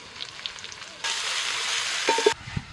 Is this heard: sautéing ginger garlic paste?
yes